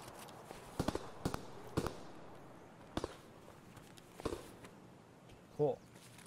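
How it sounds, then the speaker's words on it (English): Distant gunfire in Escape from Tarkov rings out from a large skeletal building as a few scattered sharp cracks, faint and far off, over a quiet ambient background. "A lot of that shooting you're hearing right now is over in that big skeletal building"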